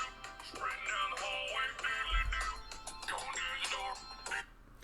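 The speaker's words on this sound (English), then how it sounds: "now without being interrupted by my Markiplier ringtone, that was a spam call" A phone rings with a Markiplier ringtone for a spam call: a voice-like, warbling melodic tone repeating in phrases, with a low thump midway and fading near the end.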